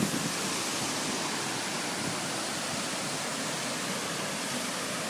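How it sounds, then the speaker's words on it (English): Water rushes steadily out of a canal spillway gate, a continuous broadband roar of churning flow heard at a moderate distance with no break or other sounds. "water starts to release from here"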